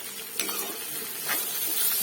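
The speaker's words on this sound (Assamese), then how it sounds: "আৰু এইফালে মই উৰহি ভাজি আছোঁ।" Beans sizzle in leftover fish oil while being stirred, a steady hiss broken by scraping strokes of a utensil.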